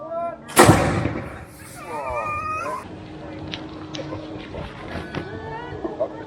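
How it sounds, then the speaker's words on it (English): A single loud bang from a black-powder flintlock gun fired outdoors in Hartlepool rings out sharply near the start, followed by a dog howling and yipping and people talking nearby. "hopefully ignites the powder down the barrel and sends your shot off with a bang"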